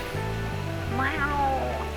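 A cat meows in the video game Placebo Love, a drawn-out vocal cry heard over a steady low game soundtrack hum, close and clear with no talking.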